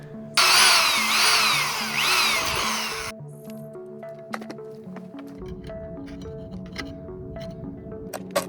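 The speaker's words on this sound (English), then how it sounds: "Drill a hole to get started in a tight spot." A drill whirs loudly for a few seconds at the start, then stops, leaving quiet clicks and light tapping over a soft background hum.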